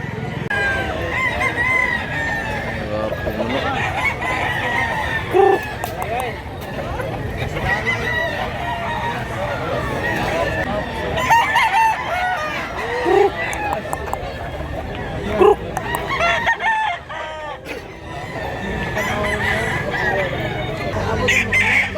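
Roosters crow repeatedly amid a noisy crowd of clucking chickens at a chicken sale in Mantalungon, Cebu, with people talking throughout.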